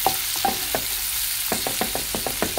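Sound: onions being stirred and fried in a pan

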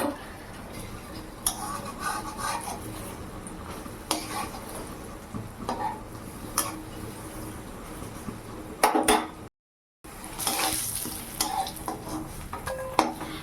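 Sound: chhana (cottage cheese) fritters frying in a wok

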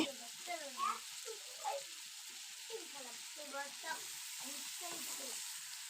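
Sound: food frying while cooking in the afternoon

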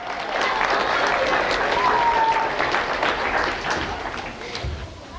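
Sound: audience applauding a volunteer

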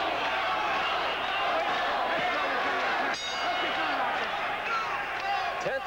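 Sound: boxing crowd in Atlantic City yelling boom boom

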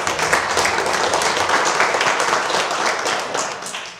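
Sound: congregation applause

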